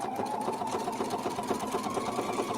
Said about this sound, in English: And then I'm just going to start stitching.